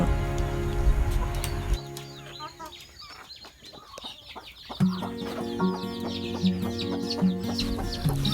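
A hen calling her chicks clucks in a steady, rhythmic series of low calls, with the chicks' thin high peeping chirps scattered throughout, close by.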